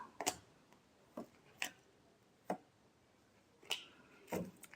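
Tarot cards get a final shuffle, a handful of sharp, quiet riffles and slaps spaced irregularly, close and distinct against a near-silent room.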